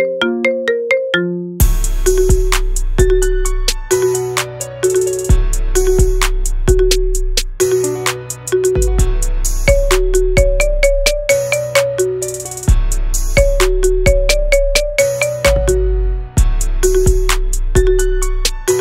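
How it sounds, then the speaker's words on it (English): Marimba remix phone ringtone: bright plucked marimba notes in a bouncy, repeating melody over a punchy low beat, loud and clean with no voices. "Get this cool ringtone for your phone now."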